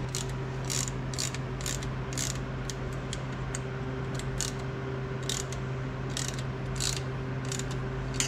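A ratchet clicks in quick, repeated bursts as bolts are loosened and tightened on a Mishimoto Slimline fan bracket, close and crisp over a steady low mechanical hum.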